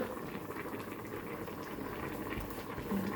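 Cassava coconut milk curry with a crushed garlic and pepper paste boiling in a pot, giving a steady, close bubbling simmer that stays even and continuous from start to finish.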